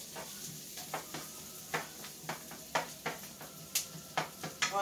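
Garlic and onions sautéing over medium heat in a pan, with a soft steady sizzle broken by a regular run of light clicks and scrapes from stirring, close and fairly quiet, no talking.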